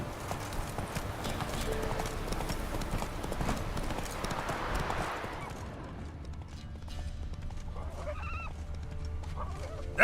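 Hooves of the horse Roach clop steadily in The Witcher 3, a rhythmic trotting patter with chickens clucking faintly in the background toward the end.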